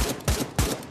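Single-fire shots from a gun in the VR shooter Pavlov Shack, two separate sharp reports about a third of a second apart, loud and close with no talk.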